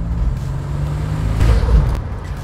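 A Buick Grand National's turbocharged V6 runs with a steady low engine drone, swelling briefly louder midway as the turbo noise builds, heard alone without talk.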